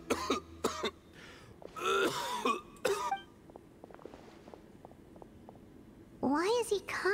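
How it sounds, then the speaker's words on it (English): A sick male character in the Genshin Impact Cyno story quest coughs repeatedly: several harsh bursts and throat-clearing, with a quieter stretch of short, faint coughs in between. "Why is he coughing so much?"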